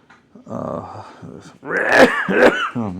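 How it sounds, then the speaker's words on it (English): Several rough, throaty coughs and hacking throat-clearing bursts, close and fairly loud, in uneven clusters with short pauses between. "This wretched cough is about to drive me up the wall"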